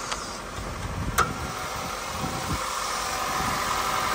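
A 1990 Toyota Camry SV21 Lumiere engine idles just after being started, a low, even mechanical hum with a couple of faint clicks near the start, heard alone and fairly quiet.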